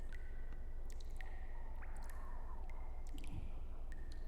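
Water dripping as ambience in a tabletop role-playing session, scattered crisp drips at irregular intervals over a low, steady rumbling background.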